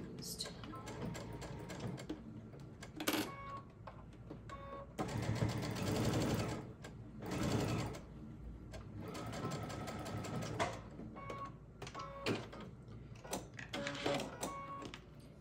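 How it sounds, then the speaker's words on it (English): Sewing machine stitching a pacemaker port pillow closed, its rapid mechanical whirr running in bursts with short pauses between runs, up close and fairly loud. "I'm just gonna start stitching it closed."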